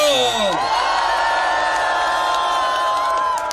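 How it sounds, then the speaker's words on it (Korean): Crowd cheering and applause at an outdoor election campaign rally, a loud continuous roar of voices with whoops and shouts layered over clapping, sustained for the whole stretch. "박수와 함성"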